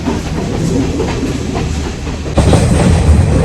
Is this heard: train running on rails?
yes